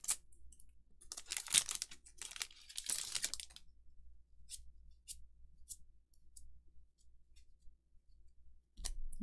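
A Final Fantasy TCG Opus XIII Crystal Radiance booster pack torn open, with bursts of crinkling foil and tearing wrapper up close, then scattered light clicks and rustles of handled cards.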